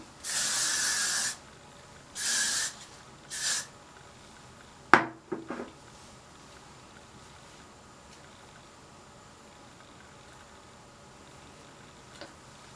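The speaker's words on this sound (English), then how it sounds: "and then I go ahead and hairspray it." Hairspray hisses onto spiky emo-style hair in three short bursts, the first longest, followed by a few faint clicks and handling noises in a quiet room.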